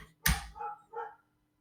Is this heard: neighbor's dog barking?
yes